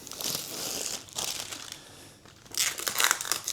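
Plastic wrap crinkles and tears as it is cut away from the back plate of a Cosco folding multi hand truck cart, coming in three uneven close bursts with quieter pauses between.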